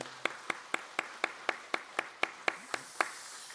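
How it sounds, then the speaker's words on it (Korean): A church congregation claps in a slow, evenly spaced beat, about twelve sharp claps roughly a quarter second apart, faint and ringing in the room. "더 힘써 주의 일 잘 사역하라고 격려의 박수 한번 하시겠습니다."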